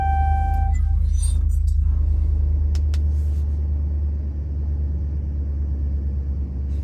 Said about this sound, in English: So press the brake and start your vehicle to get to the next step.